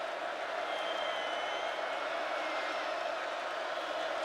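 Steady, dense roar of a large stadium crowd at a 2014 Oklahoma Sooners versus West Virginia Mountaineers college football game, a distant continuous wash of voices with no distinct cheers.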